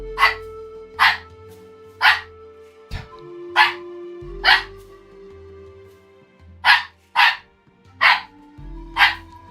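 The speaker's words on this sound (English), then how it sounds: "She's barking at me." A young female rescue dog barks in sharp single and paired yaps, about a dozen close, loud barks spaced irregularly over several seconds with quiet gaps between.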